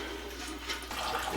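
Fuel pours through a hose from the bottom of a Harley-Davidson Fat Bob motorcycle gas tank as it is emptied, a steady close liquid rush and trickle that swells slightly toward the end, with no talking.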